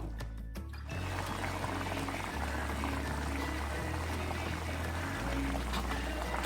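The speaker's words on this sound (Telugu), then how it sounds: "చూడండి ఎంత చక్కగా ఉడుకుతుందో పులుసు" Crab curry bubbling in a clay pot, a steady close simmering hiss with soft popping bubbles running continuously after a brief initial clatter.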